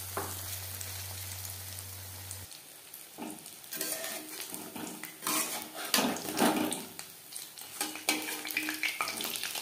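Fish pakora batches deep-fry in hot oil with a steady close sizzle and bubbling, punctuated by clinks and scrapes of a utensil against the pan, with no talking.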